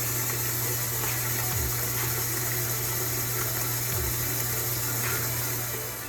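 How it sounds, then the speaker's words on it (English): Tap water runs in a steady, continuous rush into a cooking pot, with a low hum underneath and no talking. "Catching the water to put it on the stove so it can boil"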